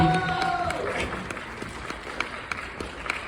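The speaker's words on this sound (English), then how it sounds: "Give him a round of applause" Audience at a theater premiere night gives an actor a round of applause: scattered clapping and crowd noise that thin out into a few sharp, isolated claps, with a voice heard early on.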